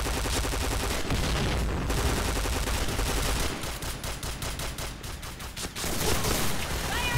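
Thrown grenades explode in the online shooter Piercing Blow during a tank battle, loud booming blasts mixed with constant rapid gunfire that fills the whole stretch without speech.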